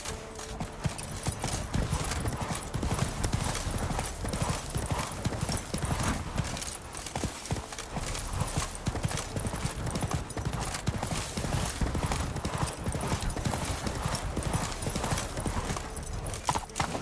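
Roach, the horse in the Witcher 3 video game, gallops with a steady, continuous clip-clop of hooves close by and an occasional whinny, with no talk over it.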